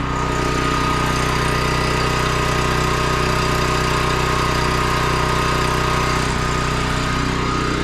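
A portable generator engine runs steadily at idle, a loud, close, constant mechanical drone with vibration and no variation throughout.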